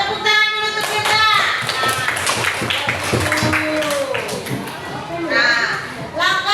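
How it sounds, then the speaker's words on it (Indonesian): A grade 5 elementary school class claps together in a quick burst of hand clapping and tapping, mixed with children's voices and chatter, then quieter talk before more clapping and voices toward the end. "Hebat, tepuk tangan dulu untuk kita."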